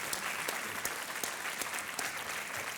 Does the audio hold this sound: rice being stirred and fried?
no